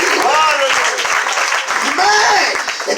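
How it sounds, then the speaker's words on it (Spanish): Church congregation applauding during a Spanish-language sermon, loud continuous clapping with voices calling out and cheering over it. "fuerte ese aplauso al Señor"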